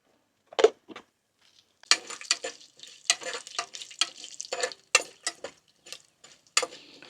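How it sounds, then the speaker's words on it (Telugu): Mustard seeds, chana dal and cumin tempering in a little oil on a small, high-flame stove, heard as close, irregular crackling bursts and spatters with brief pauses, alone without talk. "కొంచెం జస్ట్ తాలింపు వేసుకోవడానికి లైట్గా ఆయిల్, తర్వాత అట్లాగే తాలింపు గింజలు అంటే ఆవాలు, పచ్చెనగపప్పు."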